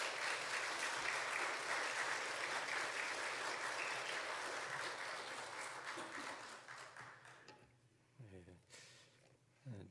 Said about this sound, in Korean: 양성일 목사님 나오실 때 박수로 환영해 주시면 감사하겠습니다.